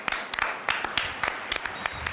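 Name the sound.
stadium crowd applauding Lamine Yamal and Dani Olmo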